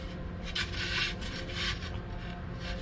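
Sandpaper rubs against a wooden drum shell in a few steady back-and-forth strokes, a close, soft rasping that swells and fades in rhythm with no voices.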